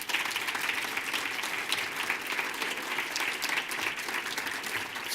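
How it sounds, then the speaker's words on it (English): Audience at a rankings release launch night breaking into sustained applause, a dense, even wash of many hands clapping, loud and steady for several seconds. "Can I get a round of applause, please?"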